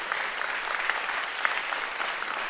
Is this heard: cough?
no